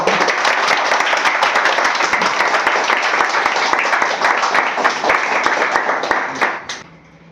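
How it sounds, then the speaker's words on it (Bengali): A group of students at a live CPU reballing class in a Kolkata mobile repair course claps together, a dense, close, loud burst of applause that holds steady for about six seconds before trailing off. "হাততালি সবাই।"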